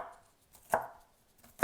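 Knife chopping cabbage on a cutting board for dumpling filling: two sharp, close chops about a second apart, with a faint lighter tap between them, in an otherwise quiet kitchen.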